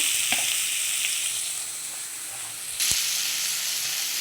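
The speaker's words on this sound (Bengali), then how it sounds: "পেঁয়াজটাকে একটু ভাজতে বসালাম, গোল্ডেন কালারের হবে।" Onions frying in oil for a rupchanda fish curry produce a steady, moderately loud sizzle and hiss, with a couple of soft utensil knocks and a brief swell in intensity near the end.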